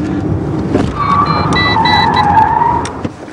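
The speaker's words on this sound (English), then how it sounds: "if you want the back wheels to spin, then you got to have the handbrake off" Car tires squeal loudly as the back wheels spin and skid during stunt driving, a sustained high screech rising over a steady engine roar for about two seconds, then fading.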